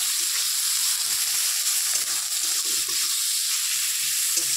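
Garlic paste and onion frying in a pan give a steady close sizzle with bright hiss throughout, joined by faint stirring scrapes, and no talk is heard over it.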